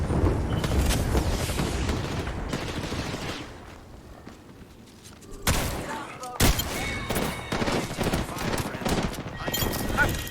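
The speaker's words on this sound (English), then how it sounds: "There is an airstrike on I'm throwing all the nades." Apex Legends Season 8 match with an airstrike and thrown grenades: dense, loud bursts of explosive gunfire and blasts, a brief lull, then sharp booms and rapid crackling shots, under a player's talking.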